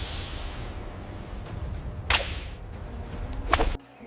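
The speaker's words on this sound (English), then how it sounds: "Sound of a violent hiss and a whip-crack strike." Violent hiss and whip-crack strike effect for a python's attack: a rushing hiss leads into a sharp crack, then a second louder snapping strike follows, set against a low, faint background rumble.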